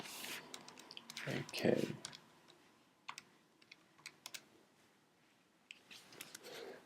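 Keys tapped on a computer keyboard while entering numbers into a calculation, with scattered close clicks and a short burst of louder taps early on, plus a brief spoken word.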